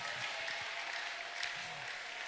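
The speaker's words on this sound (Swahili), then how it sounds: "Ningelikuwa wewe ningelichapia Yesu makofi zaidi ya pale." A church congregation applauds for Jesus during a sermon, a faint, steady wash of clapping that sounds distant and continuous, with no distinct individual claps.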